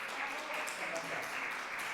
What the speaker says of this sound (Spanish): Yo pido un fuerte aplauso para este magnífico escritor e ilustrador